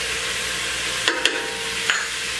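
Salt and pepper are stirred into melted butter in a pan for white pepper gravy. A steady, soft sizzle runs throughout, broken by a few light scrapes and taps of the utensil, with no talking.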